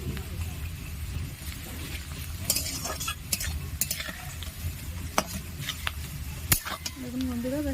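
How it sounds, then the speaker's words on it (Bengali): Lentils fry in a pan for a Bengali lau musuri dish, giving a low steady sizzle. A utensil stirs and scrapes against the pan in scattered sharp clicks. A brief voice is heard near the end. "আগে লাল লাল করে ভেজে নেব।"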